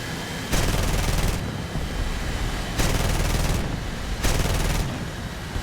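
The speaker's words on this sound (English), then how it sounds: "Wonder how the M3s sound." M3 machine guns on an aircraft in War Thunder fire in three sustained bursts of about a second each, loud and dense, with a rushing background roar between them.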